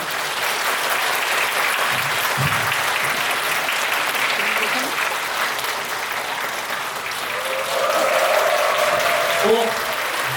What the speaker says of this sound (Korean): 먼저 우리 홍콩생 큰 박수로 맞아주시면 감사하겠습니다